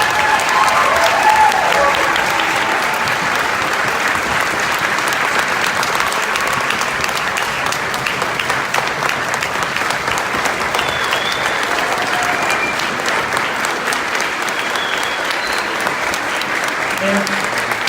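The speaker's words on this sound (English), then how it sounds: "can we have them stand and you clap for them one more time?" An audience claps continuously and loudly, a dense unbroken wash of applause that holds steady for the whole stretch, with a few voices faintly mixed in.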